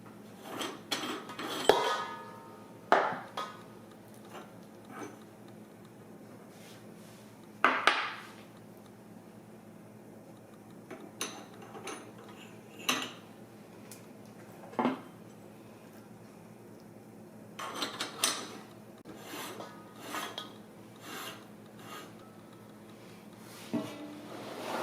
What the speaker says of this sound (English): I need to switch out the blades and grind it again.